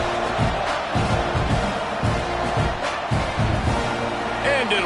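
A stadium crowd roars steadily during an NCAA 26 college football video game featuring Texas A&M, a dense continuous din with commentators talking over it.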